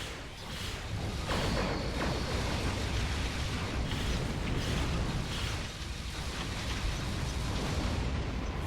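Starship cannons fire in the space game Star Trek Online as a dense, loud wall of rumbling blasts and whooshes, continuous and booming, with no talk.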